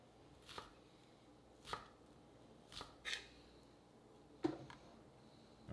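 A knife slices thinly through shallots on a cutting board, with six sharp, separate chops spaced irregularly apart, close and fairly quiet against a silent background.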